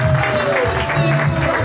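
Applause and crowd noise from guests at a Congolese wedding, continuous and fairly loud across the short stretch, with a voice and music partly mixed in beneath.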